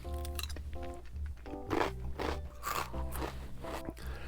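Someone crunches and chews a savory rice cracker up close, with repeated crisp bites and grinding chews over a faint background hum.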